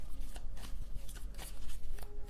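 Tarot cards are shuffled and drawn by hand, a close run of quick papery riffles and flicks, dense and steady through the short moment.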